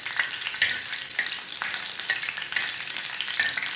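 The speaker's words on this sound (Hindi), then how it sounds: "5 चम्मच ऑयल डालेंगे, 7 रेड मिर्चें डालेंगे, 1 सब्ज़ मिर्च, 1 मिनट रोस्ट कर लेंगे।" Seven red chillies and one green chilli roast in five spoons of hot oil on a tava for chicken. Close, continuous crackling sizzle with regular spattering pops and occasional stirring scrapes, no voices.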